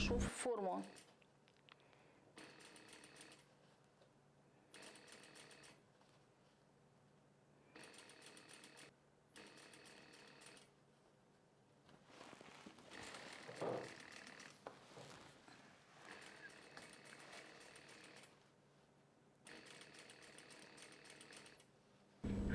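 A sewing machine stitches a narrow seam in a cambric lining for a skirt flounce. It runs in short separate bursts of a few seconds each with quiet gaps between, faint and close, and a brief rustle partway through.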